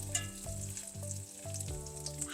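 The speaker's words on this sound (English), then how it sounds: "and we'll get to frying." Breaded chicken cutlets frying in a pan of hot oil over medium heat, a close, steady sizzle and crackle with no talk.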